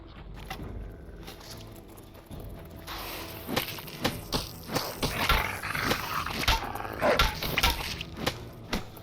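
Dogmeat, the dog companion in Fallout 3, growls and snarls in a series of rough bursts during a fight against a giant radscorpion, with combat noise around him and no talking.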